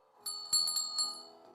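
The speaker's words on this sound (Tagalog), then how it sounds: "may kampana tayo dito. Gumagana pa ba ito?" Old bell hanging outside an abandoned house being rung, a few metallic strikes that ring out and fade, close and fairly faint.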